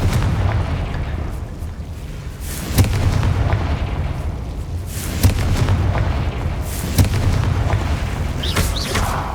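Spell explosions in Hogwarts Legacy gameplay, such as Bombarda, come as repeated booming bursts over a continuous rumbling battle din, with sharp impacts every couple of seconds.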